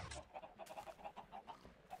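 Minecraft chickens cluck in a quick, even series of soft clicks, about ten in two seconds, faint and alone.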